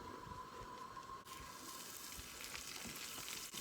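Butter sizzling in a very hot pan before steak goes in, a steady soft crackle that swells partway through and continues to the end, fairly quiet, with no talking.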